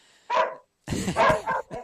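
A dog indoors gives a short series of sharp, close barks, one bark followed by a quick cluster of three or four after a brief pause, with no talk over them.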